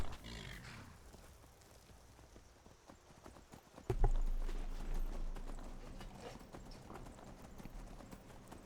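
Horses' hooves clip-clop along a riverside path in Skyrim, a steady walking rhythm under ambient game sound, with a low rumbling surge partway through.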